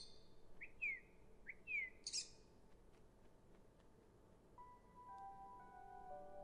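A small bird in the video game Virginia gives a few quick, bright chirps and tweets in short bursts, close and fairly soft, before a quiet musical tone rises behind it.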